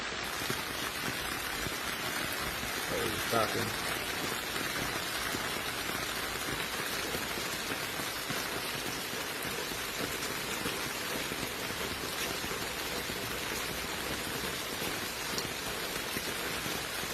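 Heavy storm rain pours down during flash flooding in Iowa and Illinois, a dense, steady roar of drops hitting surfaces that holds constant and loud throughout with no voices.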